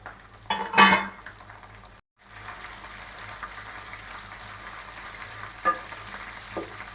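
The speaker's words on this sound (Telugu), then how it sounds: "ఇప్పుడైతే మనం ఎండుమిర్చి వేసుకుందాం." Dried red chillies dropped into hot oil with lightly browned ginger, a burst of loud crackling sizzle as they hit the pan, then a steady softer frying hiss with occasional spoon scrapes and clinks, close, no talking.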